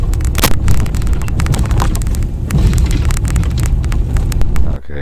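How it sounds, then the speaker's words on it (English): Harsh crackling static inside a Ramsey County sheriff's patrol car, a dense continuous crackle with sharp pops, loud and close, cutting off abruptly near the end. "I just couldn't hear it over the crackling in the car"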